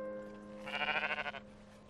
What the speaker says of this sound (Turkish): Dondurucu soğukta sürüden uzaklaşan genç koyunlardan biri hayatında ilk kez doğum yapıyor.